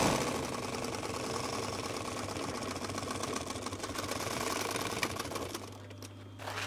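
A sewing machine runs steadily, stitching bolsters onto a VW T5 Transporter seat cover, a continuous mechanical whir that stops near the end and leaves a low hum.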